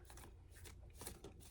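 Wild Unknown Alchemy tarot cards being shuffled up close, a steady run of soft riffling and flicking with no voice over it.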